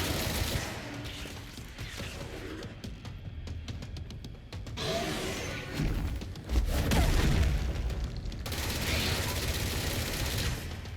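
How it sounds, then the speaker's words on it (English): Explosions and gunfire in the action video game Control, a dense barrage of booming blasts and rapid shots that rolls on loudly for about eleven seconds with no one talking. "Explosions happening."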